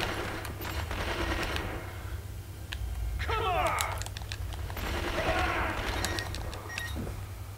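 Automatic gunfire bursts in the video game 24, rapid crackling shots scattered across the scene over a steady game background hum, with scattered clicks between volleys.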